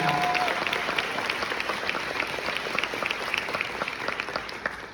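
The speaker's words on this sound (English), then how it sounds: "give a round of applause for everybody too" An interview audience gives a round of applause, with many hands in a steady, moderately loud patter that holds throughout and fades slightly toward the end.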